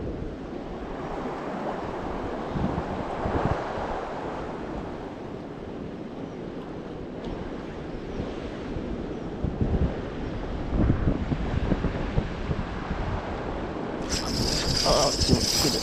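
Strong wind blows at the seashore during shore fishing in Brittany, a constant rough rumble buffeting the microphone with surf washing underneath, steady throughout with slightly stronger gusts near the end.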